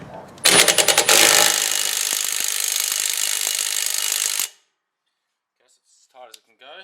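A Milwaukee M18 FUEL next-gen impact driver hammers loose a tight nut, starting with a few sharp rapid bursts and then settling into a steady loud rattling whine for about four seconds before stopping abruptly, followed by silence and brief faint talk.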